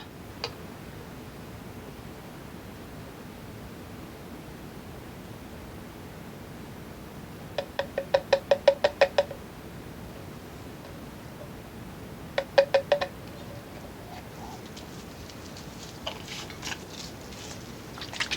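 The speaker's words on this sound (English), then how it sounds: "I'm just going to use this cap though to shake it up." Color Oops hair color remover bottle shaken with its cap on, heard as quick bursts of rapid rattling ticks, one longer run and a shorter one, over a quiet background hiss.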